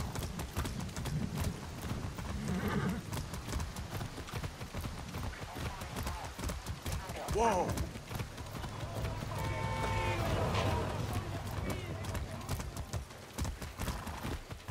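Horse hooves clip-clopping in the video game Far Cry 6: a steady, rhythmic run of hoofbeats continues throughout at moderate level, mixed with game sounds and occasional talk.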